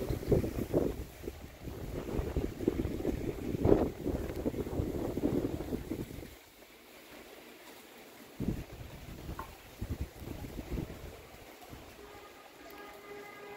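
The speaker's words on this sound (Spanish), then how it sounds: "Se dejó venir esta racha de viento." Strong gusts of wind off the Pacific buffet the microphone in rumbling, uneven bursts, easing to a quieter breeze midway before gusting again.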